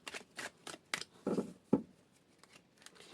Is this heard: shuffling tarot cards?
yes